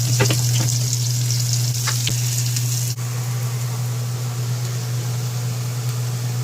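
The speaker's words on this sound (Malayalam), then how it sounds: "ഈ സോയാബീൻ ഉണ്ടല്ലോ, മസാല ഇട്ട് സോയാബീൻ ഒന്ന് ഇട്ട് കൊടുക്കുക" Soybean chunks coated in masala fry in hot oil, giving a loud, constant sizzle over a low steady hum, with a few sharp stirring clicks early on and no voices.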